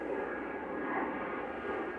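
A Hawker 750 business jet departing fast from Manchester Airport, a steady, fairly loud broadband roar of jet engines that holds level throughout, with no voices.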